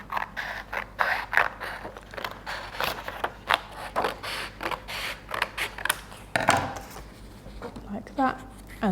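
Scissors snip through a paper strip for a snowman book craft, a run of short crisp cuts and rustles in an uneven rhythm, close and moderately loud, with brief talk at the end.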